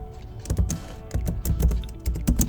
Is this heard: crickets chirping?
no